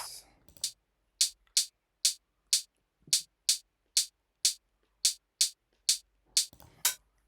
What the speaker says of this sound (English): Then we have the hi-hats.